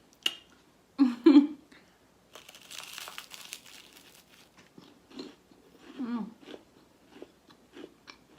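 Biting and chewing crunchy store-bought Great Value Texas toast garlic bread, a few sharp close crunches followed by softer crackly chewing, with brief quiet pauses.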